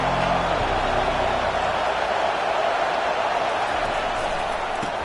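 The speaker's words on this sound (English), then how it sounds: "This crowd bringing the energy and noise early." A dense, steady roar of a large American football stadium crowd fills the whole stretch, a continuous wash of cheering and chatter with no single voice standing out.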